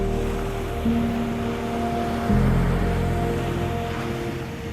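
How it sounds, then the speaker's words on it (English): Ocean waves wash onto the sandy beach at Ocean City, Maryland, at sunrise as the wind picks up, a steady surf rumble with a low tonal hum running under it. "The waves of sunrise splash onto the shore as winds gather momentum"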